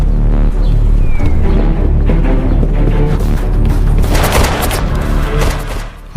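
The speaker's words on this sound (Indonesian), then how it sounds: "suara tembakan keras yang mereka dengar" Loud bursts of gunfire crack and boom in rapid succession over a heavy rumble, building to a dense volley before cutting off.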